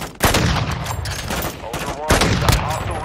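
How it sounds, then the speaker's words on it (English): Sniper gunfire rings out in the DMZ video game: a sharp crack early on and another about two seconds later, each with a booming tail, over a busy battlefield mix. "I just got sniped at."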